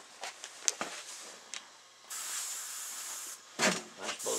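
Aerosol spray paint hissing in short bursts and then a longer steady spray onto the fuzzy inside of an elk taxidermy mount's ears, close and fairly quiet, with small handling knocks between sprays.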